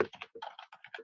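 Web address being typed on a computer keyboard, a quick run of close, crisp key clicks in an uneven rhythm, alone with no talk.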